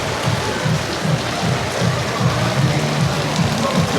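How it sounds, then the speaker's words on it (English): Steady rain falls across the cruise port of Roatan, a dense, even hiss of drops with soft low patters and thumps underneath, continuous and fairly loud, with no voices. "it's been raining pretty much most of the day"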